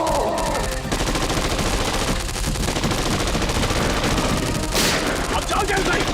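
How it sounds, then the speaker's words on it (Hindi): Dense, continuous gunfire rattles throughout, loud and close, with bursts blending into a steady barrage and voices shouting underneath. "इसकी आंखों में गोलियां मारते रहना"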